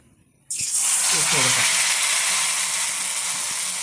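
A sudden loud sizzle bursts in as a dough ball drops into hot oil, then settles into a steady, crackling hiss of frying.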